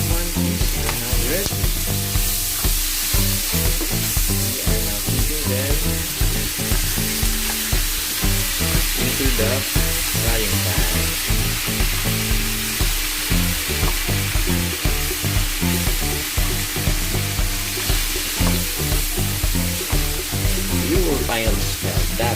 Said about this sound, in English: we're ready to put the shrimp mantis into this frying pan